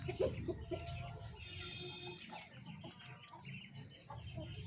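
An Aseel rooster clucks repeatedly at close range, short irregular calls over steady farmyard background noise.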